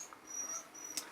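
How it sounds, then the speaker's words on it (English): A puppy whimpers softly in the background, a few faint high-pitched whines rising over a quiet room, with one brief sharper yelp near the end. "Puppy's at it again, if you can hear in the background."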